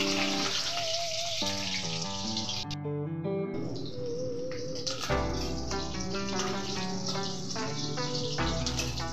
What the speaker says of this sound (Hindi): अभी हम इसमें कांदा डालेंगे, कांदा लाल होने के लिए।